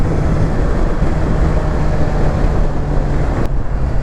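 A 2020 Honda CBR 650 R motorcycle ridden on the road, with a steady, loud rush of wind over a low engine drone that holds constant throughout.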